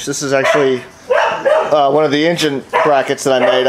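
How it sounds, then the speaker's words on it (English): Over someone talking steadily, a dog barks indoors in short close bursts of yips and woofs that overlap his speech. "I apologize for my dog barking."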